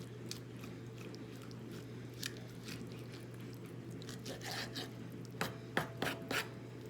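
A milkfish being cleaned while black matter is scraped from its cavity, heard as soft, close, irregular wet scraping and rasping over a steady low hum, growing busier toward the end.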